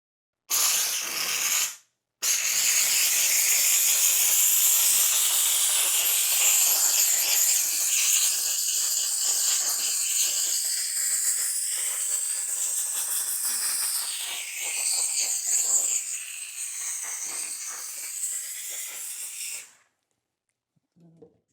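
Steam cleaner hissing steadily in the engine bay of a 2012 Corvette during detailing, a loud continuous spray lasting nearly the whole stretch with one brief break near the start.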